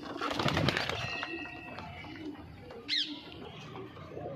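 Punjabi Malwai pigeons coo and call in a loft, with a brief distinct call near the end over soft background bird sounds.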